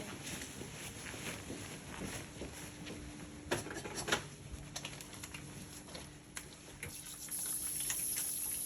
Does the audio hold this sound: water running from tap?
yes